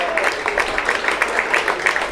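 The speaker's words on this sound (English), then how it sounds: "You can hear the applause." Crowd at a Worcestershire Rapids vs Glamorgan one-day cricket match applauding a batsman's century, with scattered, steady clapping that sounds distant and fairly loud across the ground.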